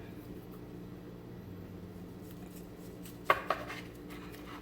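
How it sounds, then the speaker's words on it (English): A sharp knife slices a vegan sushi roll on a board, two quick crisp taps near the end over a quiet, low background hum. "before we slice this sushi roll, you gotta make sure you have a sharp knife"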